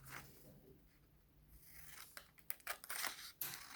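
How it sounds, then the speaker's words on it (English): Scissors snip through a strip of paper for a paper snowflake craft, starting with soft rubbing and then a quick run of close, crisp cuts near the end. "I'm just going to cut that strip of paper off"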